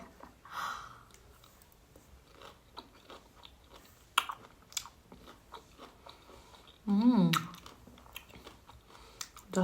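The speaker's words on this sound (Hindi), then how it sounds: "इस साइड से चबाऊंगी" Someone bites and chews pineapple close by, with soft crunchy mouth sounds in an irregular rhythm and brief louder bursts, including a short vocal sound near the end.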